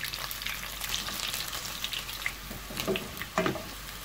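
Garlic fries in oil with mustard seeds for Kerala-style lemon pickle, a soft steady sizzle with a few light pops and utensil taps near the end, fairly faint and with no voices.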